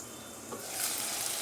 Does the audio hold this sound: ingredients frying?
yes